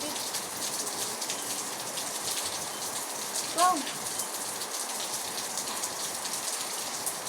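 Morning rain falling steadily outdoors, a continuous even hiss of drops on surfaces filling the background, with a brief spoken word partway through.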